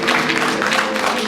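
A studio audience on a radio panel game claps in a dense burst of applause, loud and close, sustained across the whole short stretch without talk.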